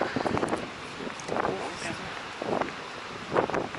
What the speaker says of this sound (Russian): Ух, какой ветрище.